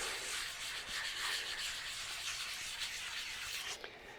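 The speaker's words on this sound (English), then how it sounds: "You can actually feel the vibration through the grip on the sanding block as we're working through the material." A sanding block wet-sanding clear coat on a guitar body, working from rough to smooth: a steady, close, continuous hiss of abrasive rubbing with slight strokes, briefly easing near the end.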